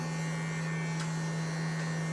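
Bravura pet hair clipper running on a Shih Tzu during grooming, a steady close electric buzz with a strong constant hum, no speech.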